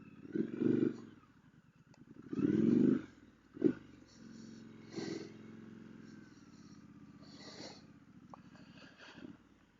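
A 2018 Triumph Street Scrambler motorcycle struggles through soft, deep sand, its engine surging in loud, close, uneven revving bursts that drop back to a lower rumble between them.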